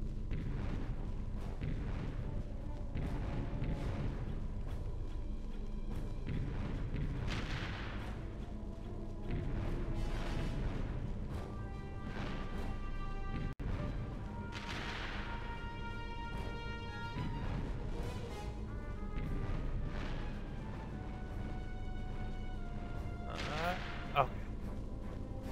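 Repeated heavy booms of a cannon firing in the 2002 Ratchet & Clank game, loud blasts recurring every few seconds amid clattering game effects and music, with a person talking over them.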